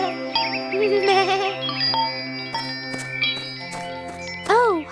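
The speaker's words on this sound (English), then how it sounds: "she heard the goats with bells around their neck." Goats with bells around their necks in an open field, with tinkling bell tones and bleats rising and falling over a musical background, ending in a louder bleat.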